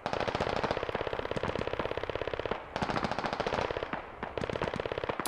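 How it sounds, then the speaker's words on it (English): Long sustained bursts of MG3 machine gun fire in a video game, rapid and dense, with two brief breaks between the nearby volleys. "Got an MG3 out of the village"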